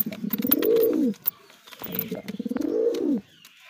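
Pet pigeons cooing up close, two rounded, throaty coo phrases separated by a pause, with light chirps, clicks and faint rustling in between.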